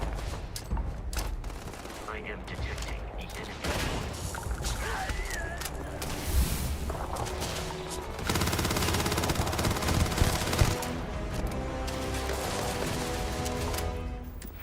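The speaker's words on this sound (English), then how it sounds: "It's called gunfire." Rapid bursts of gunfire in the video game Starfield crackle continuously over a busy soundscape, with a synthesized voice speaking partway through.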